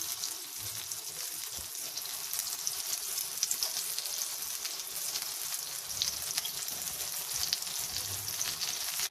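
Beef burger patties cook on a hot griddle with a dense, steady sizzle and crackle that runs on evenly and close by, alone and without talk.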